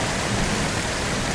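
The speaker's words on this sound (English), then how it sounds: "The rain's back." Heavy rain during storm chasing in Garry's Mod, a dense, steady roar of falling water with no pauses, loud and enveloping.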